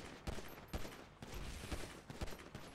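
Pistol shots fired in GTA 5 gameplay during a fight involving Tron bikes and tanks: about five quiet, separate pops spaced roughly half a second apart over a low, steady game background.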